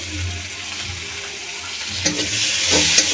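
Ground coriander and cumin fry with cauliflower and red chilli paste in a pan over medium heat, giving a steady close sizzle with a few scraping stirs near the end.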